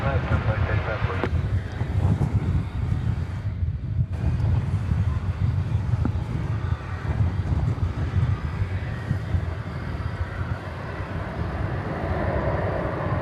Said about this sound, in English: Before takeoff, A380.